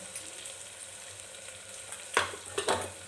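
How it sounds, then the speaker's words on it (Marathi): Spices sizzling and being stirred in a pan for black chickpea curry, a steady low fry with a few sharp scraping stirs near the end, no talk. "मी सगळे मसाले याच्यामध्ये ॲड केले मी परत एकदा व्यवस्थित परतून घेते"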